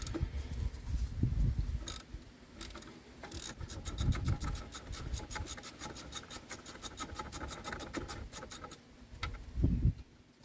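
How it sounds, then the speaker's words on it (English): A 3/8 ratchet works brake bolts loose on a 2009 Lincoln MKX, its rapid pawl clicking in long bursts between duller scraping and handling noises. "So once the bolts are broken loose, you can switch to your 3/8 and take it out the rest of the way."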